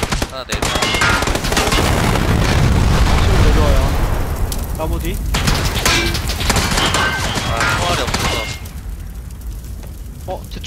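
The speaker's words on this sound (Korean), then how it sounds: "아 차가 터져." A car blows up in the video game PUBG amid machine-gun fire: a loud boom and rumble swell under rapid gunshots, then fade with scattered shots afterward.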